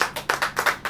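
A church congregation claps hands during a sermon, about five quick, sharp claps in a steady, even rhythm, close and loud, with no voices over them.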